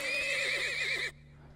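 Horse neighing in the video game Turmoil: one loud, close whinny with a wavering, trilling pitch that cuts off abruptly after about a second, over a faint steady hum.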